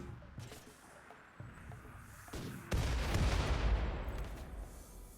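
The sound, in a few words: mortar fire in the video game Rimworld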